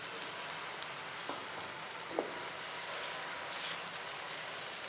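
Turmeric and tomato paste frying together for chole, a soft continuous sizzle with occasional small pops and faint stirring, steady and close with no voices.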